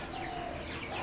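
Chicks of the tiger chicken breed cheep softly and continuously at a rural market, a thin steady peeping running under constant background noise.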